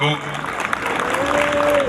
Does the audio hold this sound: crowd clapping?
yes